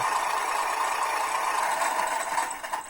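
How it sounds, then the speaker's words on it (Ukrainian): A tuned Ural WPL B36 RC truck's sound module plays a simulated engine note, a steady buzzing drone with a slight rattle that wavers near the end, close and continuous. "Імітація випуску воздуха, імітація мотора"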